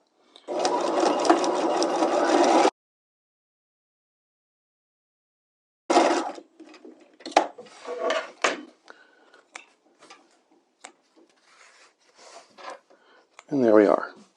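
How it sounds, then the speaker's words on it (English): A sewing machine stitches a slot seam a quarter inch from the existing seam. It runs in one steady, close burst of about two and a half seconds, then falls silent before scattered clicks, handling noises and a brief voice follow. "we'll stitch a 1/4 inch away from that seam"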